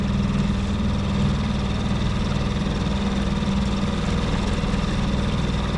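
A small outboard motor on a boat runs steadily on a lake, a constant close engine drone with a low rumble that holds the same pitch throughout, with no talk over it.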